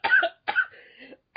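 A single short cough, followed by a brief throat-clearing sound, close and fairly quiet.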